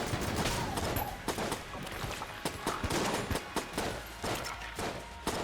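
Rapid strafe gun fire from Enter the Gungeon rattles in dense, loud bursts, stacked with game effects and impacts and no pauses.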